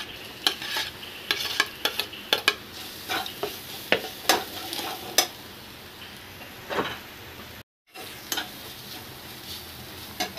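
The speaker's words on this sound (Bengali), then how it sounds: "এবার গাজরটাকে একটু নাড়াচাড়া করে একটু ভাজা ভাজা করে নেব" Carrot pieces frying in a pan under a constant soft sizzle, with a spatula knocking and scraping in irregular close strokes.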